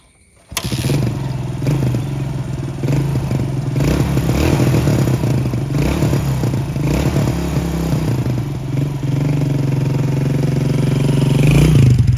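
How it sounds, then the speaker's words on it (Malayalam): A Suzuki Fiero motorcycle starts abruptly, then idles and revs with a steady, throbbing mid-pitched exhaust note, close and loud, swelling slightly near the end. "ഇതിൻ്റെ എക്സോസ്റ്റ് നോട്ട്."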